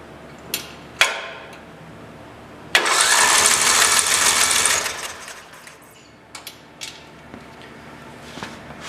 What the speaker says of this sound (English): I have the spark plug out right now, so it's just going to spin freely like it has no compression.